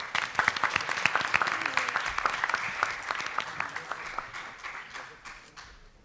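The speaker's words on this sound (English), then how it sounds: "Please join us in welcoming Dr. Swati Patil with a huge round of applause." An audience at a medical college quiz event applauds a guest academician and researcher being welcomed: dense clapping that starts strong and gradually fades over several seconds, with no voices on top.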